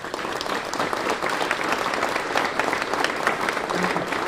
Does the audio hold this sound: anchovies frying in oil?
no